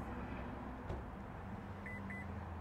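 Two faint, short electronic beeps in quick succession near the end from the tailgate button of a 2023 Honda Pilot EX-L AWD, over a low steady background rumble.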